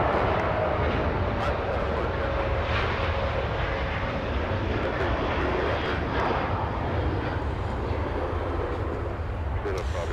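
A Southwest Airlines jet, bound for San Francisco, moves out at Los Angeles International Airport with a steady, moderately distant engine whine and rumble that runs continuously over about ten seconds, with a voice speaking over it.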